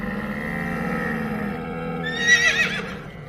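A single horse gives a loud, close whinny that rises and wavers near the end, after a low sustained drone in a calm scene where horses and camels are readied for a journey.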